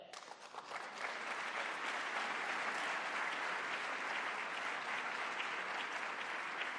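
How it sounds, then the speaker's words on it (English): Sustained applause from a conference audience at an annual investment manager gathering, honouring an award recipient, swelling after the first second into a steady, dense wash of clapping that holds evenly to the end. "give them a round of applause"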